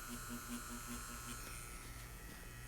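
An Inkclaw tiny pen tattoo machine running with a small liner needle setup, giving a faint, steady electric buzz with a low pulsing hum throughout, close and alone without talk.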